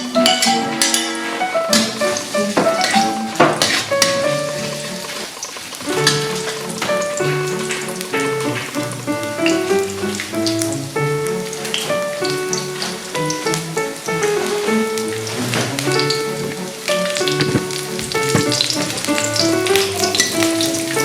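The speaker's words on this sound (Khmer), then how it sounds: "យើងរំលីងខ្ទឹមសរបស់យើងណាបងប្អូន" Garlic fries in hot oil in a pan, a continuous crackling sizzle with occasional clinks of a utensil against the pan, while music plays underneath.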